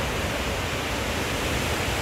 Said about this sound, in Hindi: पीछे देखे पानी का कितना शोर है।